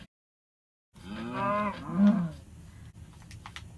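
A single short Minecraft cow moo, close and clear, after a moment of silence, followed by faint clicks.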